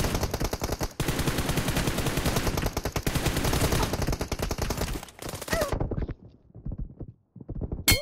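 Rapid gunfire fills most of the stretch in the PUBG video game, dense and loud, then breaks off into a few scattered pistol shots with quiet gaps between them.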